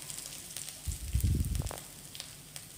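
Food fries in a pan until golden brown, giving a soft, low sizzle and bubbling that swells into a denser crackling burst midway before easing back to a faint simmer.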